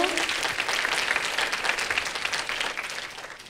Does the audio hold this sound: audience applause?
yes